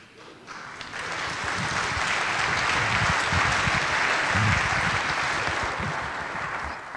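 Audience applause at a live on-stage conversation event: a dense, sustained wash of clapping that swells within the first second and holds steady for several seconds.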